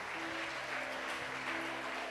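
A church congregation applauding during a service, a dense and continuous wash of clapping at an even level, with faint sustained tones underneath.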